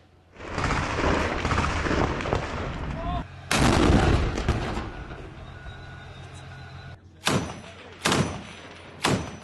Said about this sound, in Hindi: खान यूनिस में इजरायली फोर्स ने भीषण बमबारी की है।